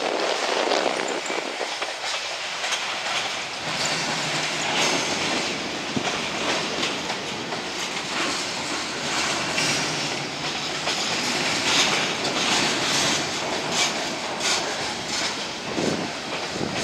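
A BNSF mixed freight train crawls past the Havelock west overpass on a blustery day. A loud, continuous rumble of rolling cars and wheel clatter comes through, with occasional squeals, over steady wind noise.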